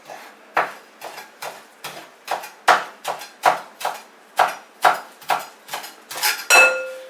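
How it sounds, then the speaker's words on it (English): A knife chops parsley on a board in steady, crisp strokes, about a dozen sharp close knocks at a brisk even pace, with a final quick flurry and a faint clink at the end. "chop up a little parsley and we put it on the side"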